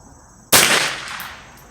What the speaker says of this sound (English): Second shot at 100 yards